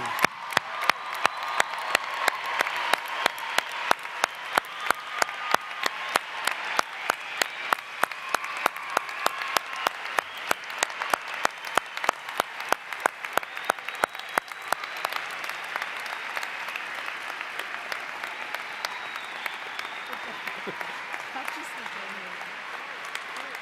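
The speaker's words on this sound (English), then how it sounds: "please join me in a round of applause for the class of 2013" Sustained applause from a large crowd at a college commencement, dense and steady clapping that gradually softens toward the end.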